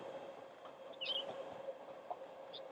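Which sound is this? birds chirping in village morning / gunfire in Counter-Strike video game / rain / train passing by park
train passing by park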